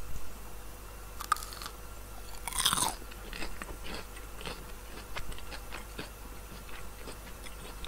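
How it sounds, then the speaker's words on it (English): Crispy breaded chicken nuggets dipped in honey mustard are bitten and chewed up close, with a sharp crunch near the start followed by quieter, irregular chewing sounds and no speech. "now I will try dipping it in the honey mustard"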